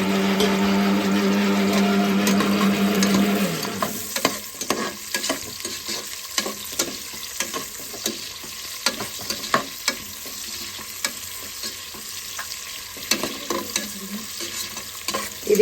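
Onions frying in a cup of oil with a bay leaf for spinach palak pulao, a steady close sizzle that breaks into scattered crackles and spoon scrapes after the onions go in, no talking.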